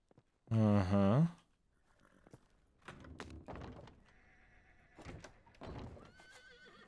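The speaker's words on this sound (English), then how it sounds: "Horses." Horses in the video game Dungeons of the Amber Griffin give one loud, close whinny, followed by softer snorts, thuds and clip-clop sounds, with brief quiet game noises after.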